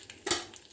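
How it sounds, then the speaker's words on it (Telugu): Mustard seeds, cumin and a little urad dal hit hot oil for a spinach curd chutney tempering, giving one short close burst of sizzle that quickly fades, with no talk. "ఇప్పుడు నూనె వేడైంది. ఇందులో ఆవాలు, జీలకర్ర, కొద్దిగా మినపప్పు,"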